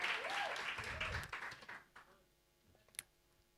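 Applause from a crowd at the close of a C20 South Africa policy meeting session, broad and steady at first, then thinning out into a few scattered claps and a last sharp clap near the end.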